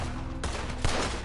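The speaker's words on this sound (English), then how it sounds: "Nice shooting, Arthur." Gunfire in the Red Dead Redemption 2 video game, a short, dense burst of loud, overlapping shots and cracks during a frantic shootout.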